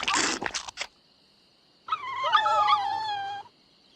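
Piranha poodles in the 1990 game The Secret of Monkey Island: a short burst of chomping and crunching, a pause, then a rising, wavering synthesized howl-like whine that fades out.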